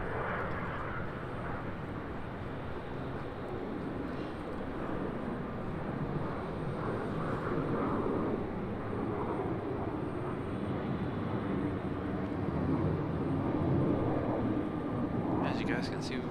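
Airliners arriving at Raleigh Durham International Airport give a steady, distant engine roar spread across the whole stretch, with a person talking quietly over it and a brief higher whine near the end.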